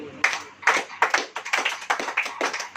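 A congregation claps hands at a church service, a loud close burst of many claps in an uneven rhythm lasting a few seconds.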